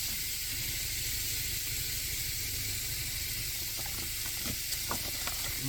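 Four burgers sizzle in a Ridge Monkey toaster pan at a car campsite, making a steady, close hiss with faint crackles and pops near the end.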